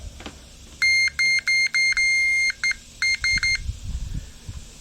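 A digital multimeter set to continuity gives a series of sharp electronic beeps during checks on a Honda Helix fuel pump, some short and some held, in broken bursts over low background rustle.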